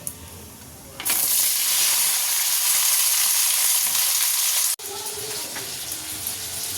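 Loud, steady sizzling of chopped vegetables frying in a pan after spices, starting abruptly and continuing, with a brief cut near the end before the hiss resumes.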